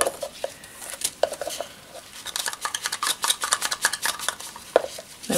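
Acrylic pouring paint is stirred in a container, with a run of quick scraping and tapping strokes of the stirrer against the sides, close and moderately quiet, coming in irregular bursts.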